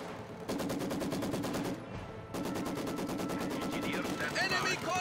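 Machine gun fire in the real-time strategy game Company of Heroes 2, with rapid sustained bursts that break briefly near the two-second mark and then resume, along with other battle noise and some high chirping effects at the end.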